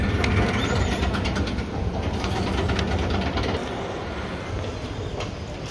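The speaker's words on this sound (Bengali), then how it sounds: "সো এই হচ্ছে এখানকার একটা রেলওয়ে স্টেশন, আর এই হচ্ছে এখানকার ট্রেনগুলো" A train at Poprad railway station in the High Tatras rumbles past close by, a dense, loud mechanical roar with rattling carriages that eases slightly toward the end.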